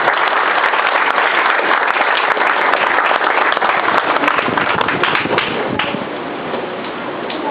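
A crowd at an Independence Day celebration event in Barcelona applauds loudly and continuously, dense clapping close up that eases slightly toward the end.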